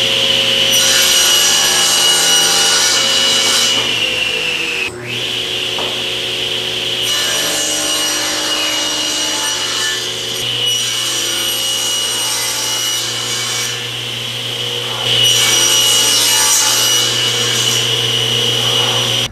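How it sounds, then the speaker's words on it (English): Power saw ripping and crosscutting lumber to width and length, a loud steady high whine with blade-in-wood roar, a brief break near five seconds, then continued cutting with a louder passage toward the end. "I'm gonna rip it to width, and I'm gonna batch cut both the top and bottom to final length"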